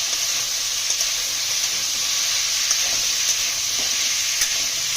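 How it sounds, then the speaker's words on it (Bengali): Potatoes and tomatoes sizzle steadily in a pan while being stirred, a continuous close frying hiss with occasional scraping stir sounds and no talking. "আলু টমেটো একটু ভাজা ভাজা করে নিন"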